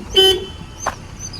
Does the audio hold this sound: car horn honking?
yes